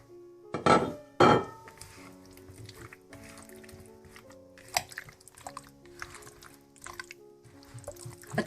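Cut, peeled potatoes tossed into chicken in a baking dish, with two loud wet clattering thuds early, then softer squishy shifting, light clinks against the dish and moist dripping sounds.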